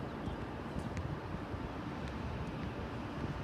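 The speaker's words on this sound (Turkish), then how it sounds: "Böyle bu saatlerde yüzünüze sıcak sıcak böyle ılık ılık bir rüzgar esiyor." Steady, low rumbling warm wind buffeting the microphone outdoors facing the Green Dome, constant and moderately loud with no voices.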